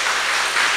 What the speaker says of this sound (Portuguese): Então dê uma salva de palmas ao Senhor. Aplauda ao Senhor. Aplauda.